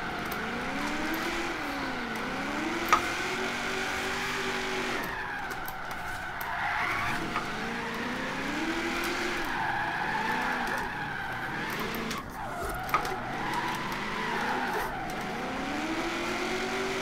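Nissan 240SX with a V8 and Rocket Bunny kit drifting in Forza Horizon 3, its engine droning and rising and falling with continuous tire squeal and skidding throughout, loud and close with no talk.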